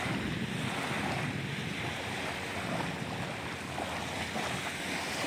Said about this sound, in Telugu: ఒక్కసారి ఆ వాటర్ సౌండ్స్ వినండి.